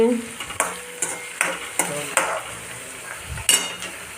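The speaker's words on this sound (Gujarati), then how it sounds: "કાંદા સરસ મજાને કટકી કરીને વઘાર દીધો જીરાનો લસણ ખાંડીને" Chopped onions sizzle in a cumin and crushed-garlic tempering for a bitter gourd dish, with a steady frying hiss broken by regular clinks and scrapes of a spoon stirring the pan.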